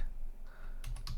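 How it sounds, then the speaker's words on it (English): A few quick keystrokes on a computer keyboard while entering a command to set up a Raspberry Pi 5 home server, crisp close clicks near the end of a brief, quiet moment. "I'm going to type"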